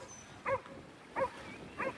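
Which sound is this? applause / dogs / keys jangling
dogs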